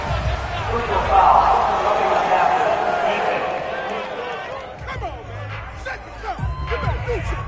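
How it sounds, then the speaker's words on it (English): A stadium crowd in a Madden American football video game reacts to a penalty call, heard as a loud, sustained roar of boos that swells and then fades, with footsteps and thumps from the field underneath. "this crowd does not like that call"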